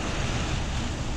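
Ocean waves and wind at sea on a sailing passage from Bajo to Pulau Langawan make a steady broadband wash of surf and gusting air, loud and close, with no speech.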